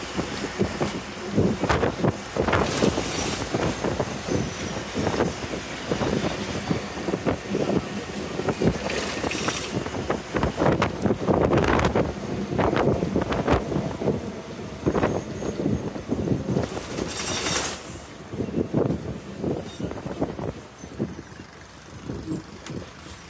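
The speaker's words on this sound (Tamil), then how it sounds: "நம்ம வரும்போது ட்ரெயின் வருது பாருங்க" A train rumbles past, heard from a bus on the Coimbatore to Rameswaram route, in loud, surging waves, mixed with gusty wind buffeting the microphone.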